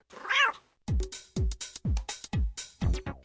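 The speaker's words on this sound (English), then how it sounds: "Hey, where'd all these cats come from?" Several cats meow loudly and close by in quick succession, about six sharp descending meows overlapping one cat's earlier higher wail, with no talk.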